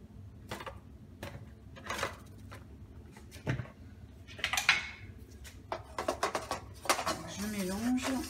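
Soap stirred into flower-petal dye in a container: a run of light clinks and scrapes with a few sharper taps, close by and moderately loud, with faint speech-like sounds near the end.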